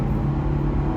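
A Chevy SS sedan's engine pulls hard up a highway on-ramp, a loud, steady low rumble with a sustained droning tone and no speech over it.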